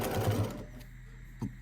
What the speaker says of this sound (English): let's go over to the sewing machine and do that